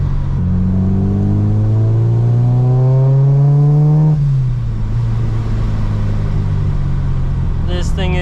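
A Honda K20 engine with a Kraftwerks supercharger in an Acura RSX revs hard on the road, the loud engine tone climbing steadily for four seconds and then easing off into a lower drone, with a brief whine near the end.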